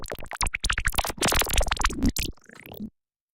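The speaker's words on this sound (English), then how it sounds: "I got my zebra squelch generator, which sounds like this." Zebra squelch generator synth with a device randomizer, loud chaotic burst of rapidly shifting squelchy tones and stuttering pulses that cuts off abruptly into silence.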